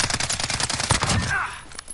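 Rapid gunfire from a video game shooter crackles in a dense, continuous burst of shots that trails off near the end, with a few faint voice fragments mixed in.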